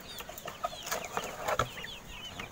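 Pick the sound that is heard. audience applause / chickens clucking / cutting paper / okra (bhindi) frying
chickens clucking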